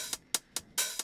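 Hi-hat from a modular drum module, with its tune knob being turned: five short, bright metallic ticks in an uneven rhythm, the fourth ringing slightly longer like a partly open hat, close and clear with no talking.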